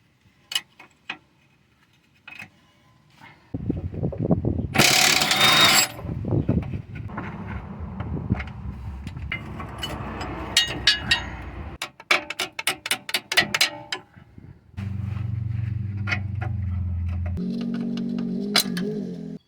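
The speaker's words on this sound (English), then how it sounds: "we're gonna hold it here with a 17mm wrench" A 17mm wrench and a ratchet work a bolt loose, making close rapid ratchet clicks in bursts and metallic tool clinks, broken by handling noise and short scraping passages.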